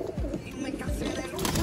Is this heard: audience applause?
no